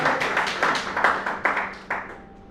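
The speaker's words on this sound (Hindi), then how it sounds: "आइए पुनः अपने लिए ताली बजाइए" An audience at a Hindi-Urdu poetry recital claps in several distinct bursts, loud and close, each surge fading quickly before the next, tapering off to quiet at the end.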